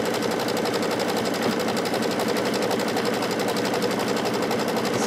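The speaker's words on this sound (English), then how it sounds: "it's just going to sew right across here, and it's going to do a bean stitch, which is like two stitches forward and one stitch back" An embroidery machine stitches a bean stitch across a drawstring piece, a fast, even mechanical chatter running loud and unbroken throughout.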